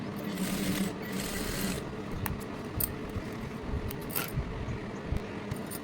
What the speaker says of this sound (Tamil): இப்போ இந்த சோல்டரை பேக் பக்கமாக திருப்பி ஒரு டம்மி தையல் போட்டுடலாம்